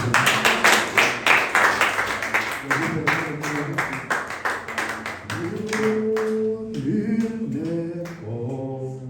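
Rapid rhythmic hand clapping from a church congregation for several seconds, fading as singing voices rise toward the end.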